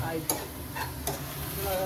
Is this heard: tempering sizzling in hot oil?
yes